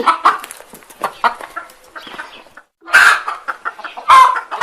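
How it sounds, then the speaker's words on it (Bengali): Cartoon chickens perched in a large tree give loud, close clucking calls in irregular bursts, with short pauses between the squawking phrases. "এত ভোরে মুরগির ডাক শোনা যাচ্ছে কোথা থেকে?"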